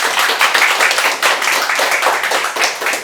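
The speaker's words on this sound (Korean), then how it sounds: "건강하게 박수 한번 쳐주세요" Lecture audience at a Korean education hall clapping together, brisk and dense applause filling the whole stretch with no speech over it.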